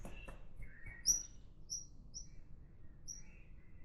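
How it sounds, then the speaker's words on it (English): Small bird chirping inside an unfinished, long-open house: a few short, high, thin chirps scattered over a faint low background rumble, close but quiet. "There's an actual bird in here."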